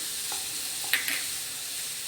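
Onion, carrot and chopped green chillies sautéing in a pan for crispy kurkure momos filling, a steady close sizzle with a couple of faint stirring scrapes and clinks, no talk.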